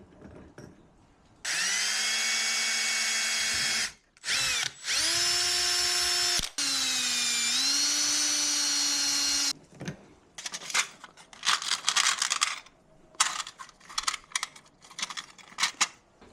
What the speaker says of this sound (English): Now we're just gonna drill 2 holes